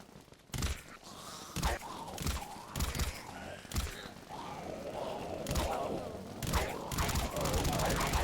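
Repeated bursts of AS-VAL Ghost gunfire in the zombie shooter Dead Frontier, sharp thudding shots in irregular clusters against a busy game backdrop of groans and effects, fairly loud and close.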